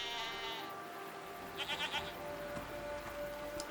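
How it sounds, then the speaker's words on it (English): Goats or goat-like farm animals bleat a few times in quick succession at moderate distance, with a busy low background hum underneath and no talking. "Are they simply goats?"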